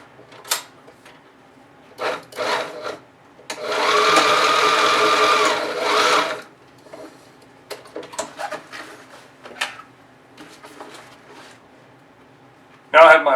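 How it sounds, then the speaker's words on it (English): A sewing machine stitches elastic into a backpack channel in one steady burst of about two seconds, with short clicks and handling sounds around it and a person talking between. "put a line of stitching to secure it in place"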